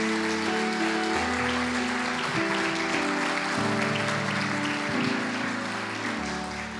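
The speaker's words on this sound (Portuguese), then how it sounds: "Vamos aplaudir a Jesus?" A church congregation claps steadily and loudly for several seconds, a dense wash of applause with organ-like sustained tones underneath.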